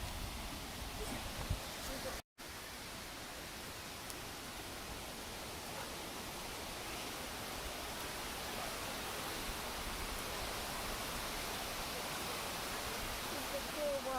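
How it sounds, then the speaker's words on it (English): Waterfall along a hiking trail, a steady broadband rush of falling water that fills the scene evenly and continuously, close and loud, with a brief dropout near the start. "It's a cool waterfall."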